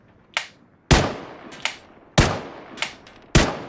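Gunshots ring out in the video game PUBG on PS4: six sharp single reports at irregular intervals, some loud and close, others softer, each with a short decaying tail.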